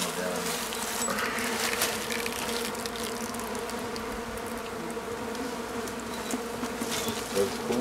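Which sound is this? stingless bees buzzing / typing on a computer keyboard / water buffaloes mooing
stingless bees buzzing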